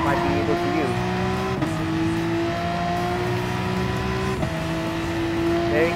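Porsche 911 RSR race car engine in the Gran Turismo Sport racing game, holding a steady high drone with two sharp gear-shift drops, loud and close throughout.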